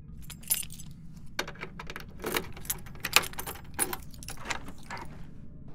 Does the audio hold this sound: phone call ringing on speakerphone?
no